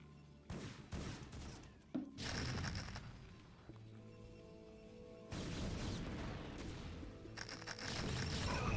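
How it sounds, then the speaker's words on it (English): Spider Mines detonate against Zealots in a StarCraft: Brood War match: a run of booming, crackling blasts with sharp onsets, layered over steady battle noise. "Ah, Spider Mines catching those Zealots."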